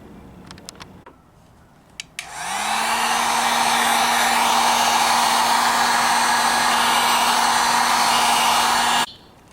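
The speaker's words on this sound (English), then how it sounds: "I'm going to apply pressure to it as I try to heat it up with the heat gun" A heat gun starts with a click and blows hot air onto wood, holding a steady loud whooshing whine with a constant hum for about seven seconds before it cuts off, preceded by a few small ticks and clicks.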